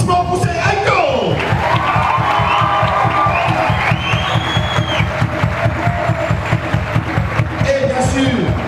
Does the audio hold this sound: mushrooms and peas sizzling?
no